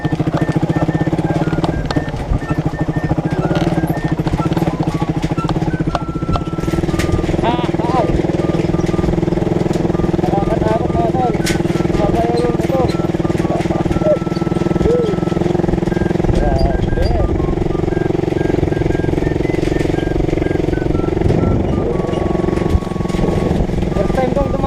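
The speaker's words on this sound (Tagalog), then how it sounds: "first time kong dumaan ng motor dito sa Miami" A motorcycle engine drones steadily at idle and low speed as it crosses a hanging bridge, close and continuous for the whole stretch, with people talking over it throughout.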